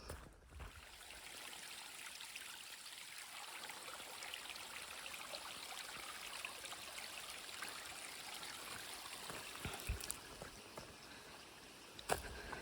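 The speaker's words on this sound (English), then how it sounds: "that cute little waterfall that was part of the path" A small waterfall on an Appalachian Trail hiking path flows steadily, a soft, even rush and trickle of water heard alone at moderate distance.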